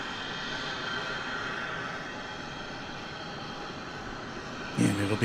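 Boeing 787-8 airliner arriving at DFW airport after a long flight from Buenos Aires, a steady distant engine roar sustained throughout, heard under a commentator's voice, with a louder burst near the end.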